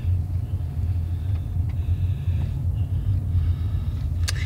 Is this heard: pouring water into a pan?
no